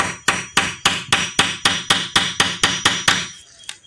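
About thirteen sharp hammer blows drive a nail into a small wooden board, each a close, loud strike with a short ring in a quick steady rhythm, ending with one lighter tap, no talking.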